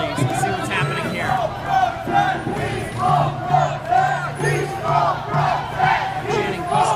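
An anti-Trump protest crowd in Oakland at night chants in loud, rhythmic, repeated bursts of many voices, with looser shouting and chatter between the phrases.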